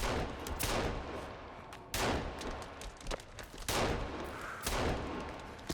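Pistol gunfire in the survival video game Sons of the Forest: several loud, sharp shots spaced roughly a second or two apart, each with a reverberant tail, with no talk over them.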